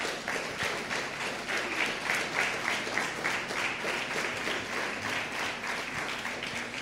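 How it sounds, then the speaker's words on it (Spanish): A church congregation applauds at length, a steady, moderately loud roll of many hands clapping with a slight rhythmic pulse, sustained evenly from start to finish. "Dele un fuerte aplauso a Dios."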